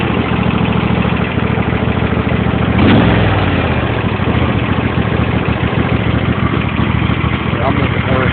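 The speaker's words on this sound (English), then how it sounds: "Sputtering. You cannot kill this thing by turning the choke on." An old engine sputters through a cold start with the choke on, running loud and close as a rough, uneven throb that continues steadily throughout, with a brief surge near the start.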